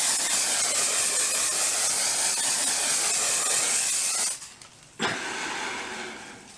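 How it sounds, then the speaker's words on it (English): Aerosol makeup setting spray releases a continuous, loud hissing mist for about four seconds, then stops abruptly, followed by a brief softer burst and fading hiss. "It is a aerosol, like a continuous mist, so it's really nice and cooling."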